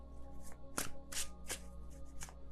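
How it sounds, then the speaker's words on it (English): A deck of tarot cards shuffled by hand, a run of crisp riffling bursts and soft slaps in a quick uneven rhythm, close and fairly quiet with no voice. "I know my hands are small, but come on, I can shuffle this deck."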